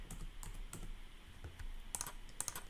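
A library card number typed on a computer keyboard, heard as quiet, close key clicks in a loose, uneven rhythm, with a couple of sharper clicks near the end and no talking.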